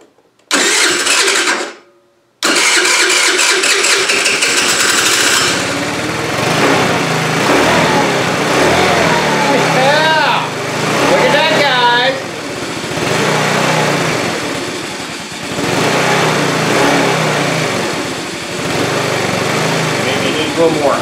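A 2013 TaoTao scooter fitted with a new carburetor cranks, catches after a brief pause, then runs loud and close, its engine note rising and falling as the throttle is blipped before settling toward an uneven idle.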